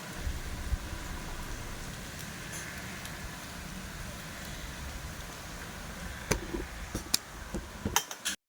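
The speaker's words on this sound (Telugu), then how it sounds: "ఫుల్ అయితే వర్షం పడుతుంది." Rain falls steadily outside a home kitchen, a soft continuous patter with a few clinks of dishes and utensils nearby toward the end.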